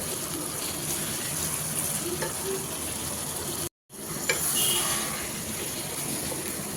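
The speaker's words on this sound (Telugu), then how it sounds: "వాటర్ లేకుండా మొత్తం నీట్గా ఆయిల్లోనే ఇది ఫ్రై అయిపోవాలా." Mutton keema frying in oil, a steady close hiss and sizzle with faint stirring, cut by a brief gap of silence before resuming slightly louder.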